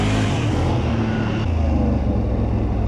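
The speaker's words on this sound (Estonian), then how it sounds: "Mingi auto pargib ennast kogu aeg siin." A car's engine rumbles close by as it maneuvers to park in an outdoor spot near a lake, a steady low drone that shifts slightly in pitch partway through, with no talk.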